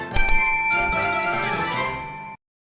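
A bright bell rings a few quick times, then its metallic tone shimmers and fades before cutting off abruptly.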